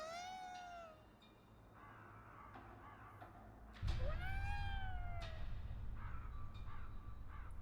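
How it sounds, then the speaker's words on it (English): A cat meows loudly in Ghostwire: Tokyo, two drawn-out cries a few seconds apart, with shorter chirps between them. A rumbling game ambience swells beneath the second call. "Okay, suddenly just a cat there"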